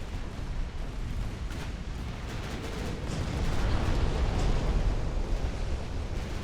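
A flash fire explosion aboard a warship in Ultimate Admiral: Dreadnoughts swells into a deep roaring rumble amid scattered distant gunfire booms.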